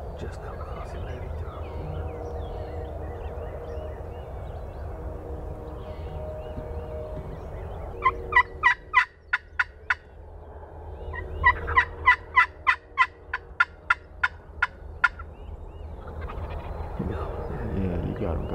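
Wild turkeys gobble outdoors on a hillside, two distinct bursts of sharp, rapid rattling calls over a low background hum, the second longer and louder, with quieter stretches before and after.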